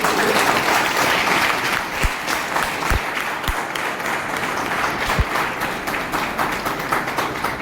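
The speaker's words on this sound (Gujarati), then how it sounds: "આપણે સૌ તાળીઓથી તેમને વધાવીશું" At a college mother-tongue festival event, a large audience applauds continuously, a dense and steady wash of clapping with a few sharper claps standing out.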